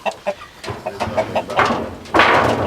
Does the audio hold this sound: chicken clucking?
yes